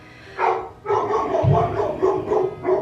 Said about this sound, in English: my dog was going crazy there for a second